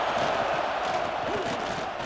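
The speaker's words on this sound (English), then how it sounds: "This Auburn crowd trying to conjure up a little magic here on third down." Stadium crowd noise at an Auburn college football game in a video game, a steady broad roar of fans sustained through the whole stretch, loud and even with no distinct voices standing out.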